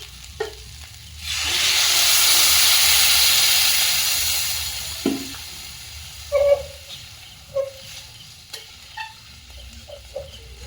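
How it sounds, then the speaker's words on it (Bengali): Water poured into a hot pan of cooked-down jaggery bursts into a loud, steady steaming sizzle that swells for a few seconds and then fades, followed by several quiet clinks and taps. "এবারে জল দিয়ে দেবো।"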